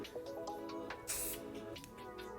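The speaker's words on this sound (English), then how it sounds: "take some flexible hold air spray, spray the bun" A brief hiss of flexible-hold hair spray sprayed onto a hair bun, close and soft, over a faint background hum.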